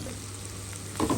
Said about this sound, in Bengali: একটু কষানো হোক।